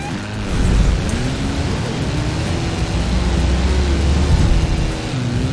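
A Lamborghini Urus engine is held at full throttle off-road in the racing game Forza Horizon 4, giving a loud, continuous drone whose pitch rises and dips as it strains.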